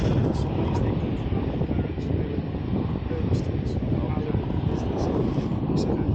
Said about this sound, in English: that aircraft, that's an A319-100